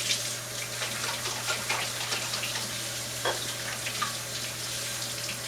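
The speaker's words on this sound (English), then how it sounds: "I'm going to rinse my hands because I've been working with raw eggs" A kitchen tap runs steadily as hands are rinsed after handling raw eggs, giving a continuous close hiss of splashing water with faint clinks and shifts in the flow.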